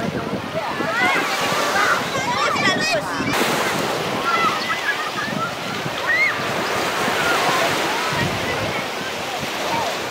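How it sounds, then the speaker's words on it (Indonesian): Small, gentle sea waves wash in at Mimiland beach in Singkawang, a steady surf hiss running throughout under voices and the chatter of children swimming nearby. "Di samping itu juga ombaknya yang tidak begitu besar."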